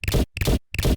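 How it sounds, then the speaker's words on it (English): Three short, punchy magic impact sound effects in quick succession, each abruptly trimmed off with silence between them, forming an even rhythm. "Lots of impacts and explosive shots that have been trimmed off."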